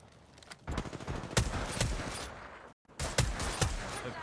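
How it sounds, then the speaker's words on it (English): Rapid bursts of automatic gunfire in the Apex Legends video game, sharp and fairly close, several volleys broken by a brief silent gap before the shooting resumes. "Opening fire."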